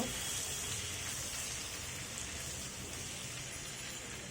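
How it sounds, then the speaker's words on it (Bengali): Potatoes frying in hot oil for a rohu fish curry, a faint steady hiss and fine crackle throughout with no other sound. "এখন তো মাছের মতো নেড়ে চেড়ে লাল লাল করে ভেজে নিব"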